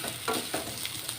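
A beetroot dish is stirred in a pan, giving a few soft scraping strokes over a faint, steady sizzle, close and quiet, with no talking.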